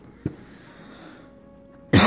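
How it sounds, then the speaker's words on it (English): A single short cough near the start, then quiet room tone until a loud broadband burst at the very end. "Sorry for the cough."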